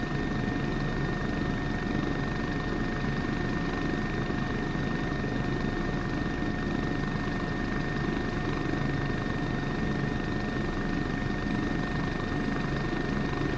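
Helicopter in a video game flight simulator on an Austrian tour, a constant rotor and turbine drone with steady high whine tones, unbroken and fairly loud, no voices.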